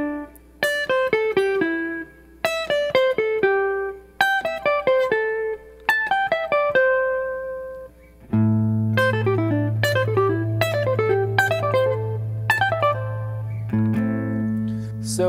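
A guitar plays a triplet pattern moving up and down the neck in quick plucked groups of notes. About halfway through a sustained low drone joins and holds under the phrases. The playing is close and clear, with no speech.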